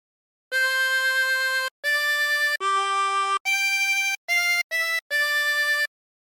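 A song played on a 24-hole tremolo harmonica, a phrase of bright, reedy, wavering sustained notes separated by short gaps, clean and close with no talking.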